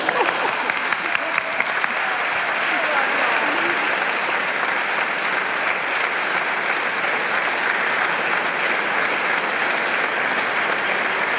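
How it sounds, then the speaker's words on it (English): Sustained applause from a large crowd, steady dense clapping that fills the whole stretch without letting up, with no voices standing out. "Wait for applause."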